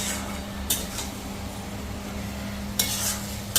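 Mutton masala is stirred in a pan over low sizzling heat, with a few brief scraping clinks of the spoon against the metal and no talk.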